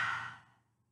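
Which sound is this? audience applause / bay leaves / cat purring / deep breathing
deep breathing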